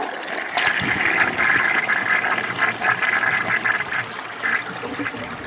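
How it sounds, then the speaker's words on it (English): A 1946 Kohler Trylon toilet flushes with a steady rushing, gurgling wash of water lasting several seconds, close and fairly loud, with brief surges and no talk over it. "This will be the final flush for today."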